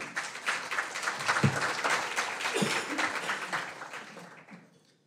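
An event audience applauds to welcome a speaker, a steady patter of clapping from a moderate crowd that swells, holds, then tapers off into silence.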